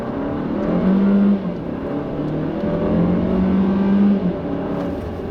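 A 2016 Kia Optima LX Turbo with a dual-clutch transmission accelerates, its engine a loud, close, sustained drone that swells in pitch, eases off, then builds again.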